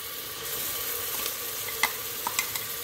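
Ginger garlic paste sizzles in a pan for mutton curry, a soft steady frying hiss broken by a few sharp clicks of a spatula stirring against the metal.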